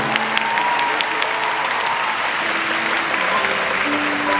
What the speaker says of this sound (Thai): ขอเสียงปรบมือให้พวกเขาด้วยครับ